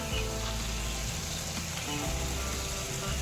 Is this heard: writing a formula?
no